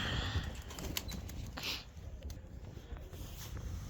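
A trained pigeon, just released, flaps its wings in a rapid flurry close by, the beating continuing for a few seconds over faint background noise.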